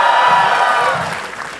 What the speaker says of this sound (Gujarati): કિંજલ માટે જોરદાર તાળીઓ થઈ